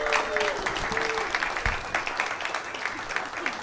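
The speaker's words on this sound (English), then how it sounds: "Clap it up." Applause from a comedy club audience, a steady dense patter of clapping with crowd noise underneath and some voices mixed in.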